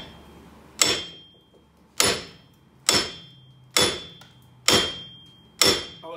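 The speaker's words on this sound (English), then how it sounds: "or you can just hammer it off" Six loud, sharp hammer blows strike a seized wheel hub assembly on a 2007 Saturn Ion, each about a second apart with a ringing metallic decay, close by and with no talk.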